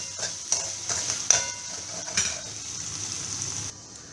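Flour bhaji is stirred in a pan, a soft steady sizzle of frying under a few light scraping stirs, faint and close with no talk.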